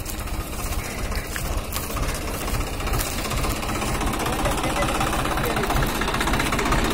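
A Swaraj 744 XT tractor engine runs steadily and loudly up close, a continuous low diesel rumble with someone speaking over it.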